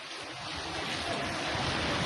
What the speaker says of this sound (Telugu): వాటర్ ఫాల్స్ ఇదిగో మా కాళ్ళ కింద వాటర్ ఫాల్స్.